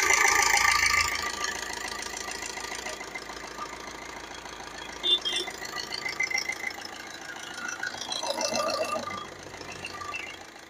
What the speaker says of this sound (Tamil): வண்டியோட இன்ஜின் இப்போ ரன்னிங்கில் தான் இருந்துட்டு இருக்கு. இப்போ நம்ம மைக்கையும் பக்கத்தில் வச்சு உங்களுக்கு அதோட நாய்ஸை காட்டுறேன்